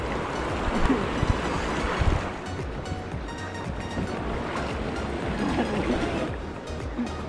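Knee-deep river water churns and splashes steadily as someone wades across on the way to a hidden waterfall in Raigad, with constant nearby swishing and gusts of wind over the microphone.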